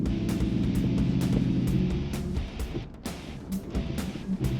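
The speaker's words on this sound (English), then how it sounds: "I've got my hill descent on extreme, which you can probably hear." A car crawling down a steep 29-degree slope with hill descent control set to extreme, a steady low mechanical drone and intermittent clicking pulses from the braking system, fairly close.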